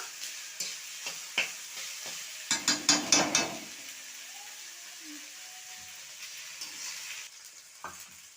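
Ground paste of onion, ginger, garlic, cumin and green chili frying in a pan, with a quiet sizzle under scattered spoon scrapes and a short burst of rapid knocking stirs in the middle.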